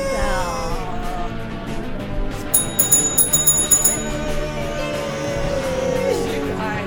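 A bell struck by two people together at the end of a podcast episode, a bright burst of several quick rings in the middle of the stretch with ringing overtones, while voices and background noise continue around it.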